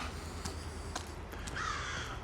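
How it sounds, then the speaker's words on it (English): Crows caw several times at a distance on a street in Lakeview, Regina, in March, harsh calls spaced out over steady outdoor background hum. "Still hearing the caws of the crows."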